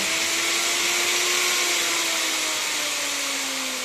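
A Maktec MT362 router spins freely with no bit in the workpiece, a loud steady high-pitched motor whine with a slowly drifting tone, close and unbroken, no talking.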